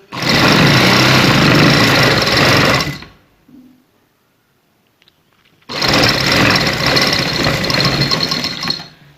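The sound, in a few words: sewing machine stitching a shalwar hem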